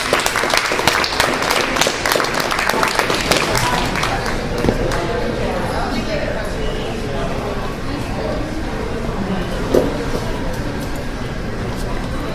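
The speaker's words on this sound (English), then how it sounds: "give him a round of applause, please" An open-mic audience at BGSU claps to welcome a poetry performer. The sharp, dense clapping in the first few seconds thins into a softer, steadier room murmur with scattered claps.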